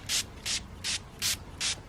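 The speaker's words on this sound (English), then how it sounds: "I'm just going to try to spray around here as much as I can." White vinegar squirted from a hand spray bottle onto ants near a rug: five short, crisp hissing bursts at a steady, even rhythm, close and fairly loud.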